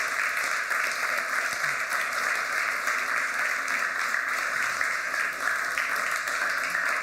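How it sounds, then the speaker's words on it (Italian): An audience at an international prize award ceremony applauding steadily, a dense even wash of many hands clapping throughout without pause. "io vi invito ad un grande applauso per questo splendido spettacolo"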